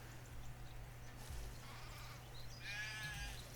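Sheep bleating in the video game Craft The World, a short wavering bleat rising late over a steady low game hum and ambient background.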